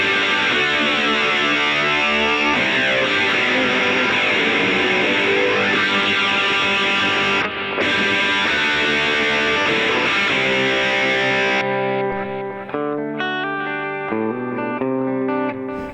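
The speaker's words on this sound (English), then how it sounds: "if I wanted the gold drive added on, which is one of the excellent pedal effects" Electric guitar through a Vox Valvetronix VTX150 Pro Neodymium amp with the Gold Drive pedal effect, loud distorted chords played continuously with a brief gap, then ringing sustained notes decaying at the end.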